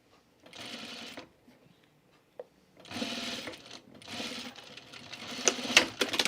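A sewing machine fixes a small seam on pajamas, whirring in short separate bursts with quiet gaps and a few clicks, close by and moderately loud, no talking.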